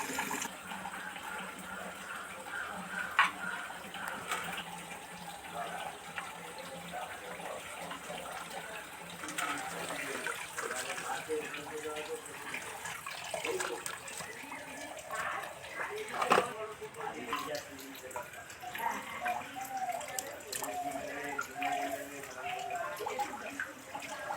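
Moringa flowers being rinsed under running water, with a steady, faint flow from a tap and soft splashing and handling throughout. A voice talks over the water.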